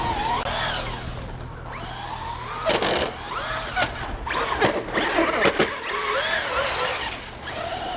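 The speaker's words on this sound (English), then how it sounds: "Traxxas Rustler VXL 4x4 back in business. Out here in the snow." A Traxxas Rustler VXL 4x4 RC truck on 3S power bashes through snow, its electric motor whining and revving in rising and falling bursts with scuffing from the rubbing body, close and fairly loud throughout.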